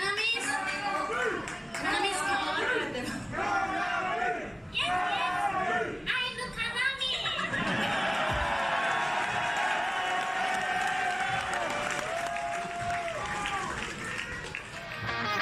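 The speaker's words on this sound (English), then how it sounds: "the crowd was calling her name" A concert crowd cheers, claps and shouts a guitarist's name, a loud, dense roar that swells and holds throughout, with people talking over it.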